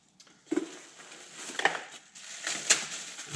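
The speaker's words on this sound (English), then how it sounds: "Let's unwrap the other one." Plastic packaging crinkling and rustling as a carbon fiber mirror cap for an Abarth Competizione is unwrapped by hand, with scattered soft crackles and a few sharper crinkles, close and fairly quiet.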